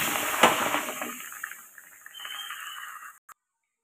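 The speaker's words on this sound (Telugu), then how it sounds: "1 కప్పు వాటర్ వేసుకోవాలండి." One cup of water is poured into a kadai holding sugar to start a syrup for Mysore pak, a steady splashing gush up close that thins out and stops abruptly near the end.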